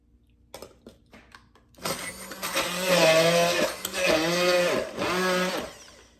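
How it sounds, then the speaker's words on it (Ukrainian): After a few light clicks, a blender motor roars to life and runs loudly, its whine rising and dipping as it purées garlic with oil, vinegar and salt into a thick paste. "І тепер все це блендером"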